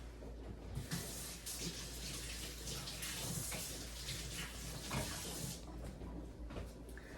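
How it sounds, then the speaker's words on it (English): A kitchen tap runs in a steady, close stream throughout while hands are washed of sticky pineapple juice. "I'm gonna wash my hands real quick because pineapple does get sticky"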